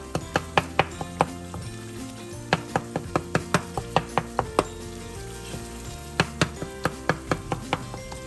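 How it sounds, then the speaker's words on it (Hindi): A spoon mashing tomatoes in a pot of cooking moong dal gives a steady run of loud, rhythmic metallic taps and clacks over a soft sizzle, pausing briefly midway. "अपने चम्मच की मदद से टमाटरों को मैश कर रही हूँ।"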